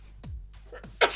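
A single short sneeze from a person in a TV studio broadcast, close and clear, followed by a sharp breathy burst at the end.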